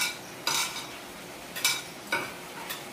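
Hands rubbing salt into bitter gourd, giving a few short wet, gritty squelching bursts separated by pauses, close and moderately loud with no talk.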